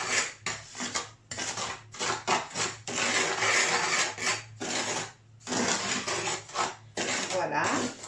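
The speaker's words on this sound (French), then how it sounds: "On va pouvoir mélanger, donc avec une cuillère en bois ou avec vos mains" A wooden spoon stirs harcha dough of semolina and baking powder in a bowl, giving close, rhythmic scraping and knocking strokes broken by short pauses.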